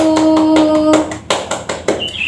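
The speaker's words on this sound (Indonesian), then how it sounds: "beri tepuk tangan untuk kelompok 1" A small classroom group claps for the first group's presentation: a handful of sharp, separate claps that thin out into a few scattered ones, with a brief chirpy tone alongside.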